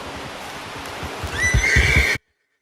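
A horse in a video game, a loud, close whinny that rises and trembles after a few seconds of hoof and ambient sounds, then cuts off abruptly to silence.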